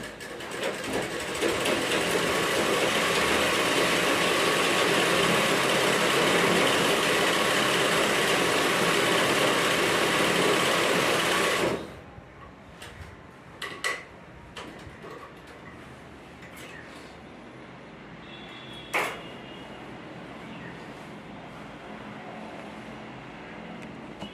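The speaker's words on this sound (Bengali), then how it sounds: "খুব সুন্দর সেলাই হচ্ছে" A tailoring sewing machine stitches in a steady, loud mechanical whir for about twelve seconds, then stops abruptly, leaving only quiet handling clicks and faint taps.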